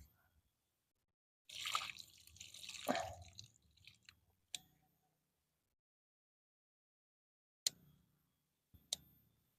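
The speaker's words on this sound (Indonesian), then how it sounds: "Saya mau coba untuk siram biar terlihat akarnya" Water pours and splashes briefly onto the roots of a bonsai grown from a cutting, followed by scattered drips and a few sharp clicks in an otherwise quiet space.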